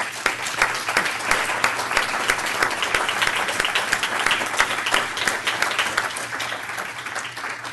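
An audience at a Board of Trustees meeting applauds the board, steady crowd clapping that sustains evenly and tapers slightly toward the end, with no talking over it.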